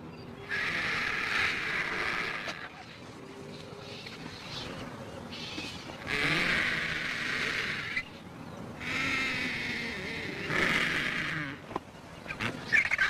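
Vultures squabbling over a young wildebeest carcass on the African plains, giving loud, harsh, honking squawks in long repeated bursts with quieter scuffling gaps between them.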